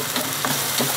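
Onion paste frying in a pan with cumin and chillies gives a loud, steady, close-up sizzle that fills the brief moment without any voices.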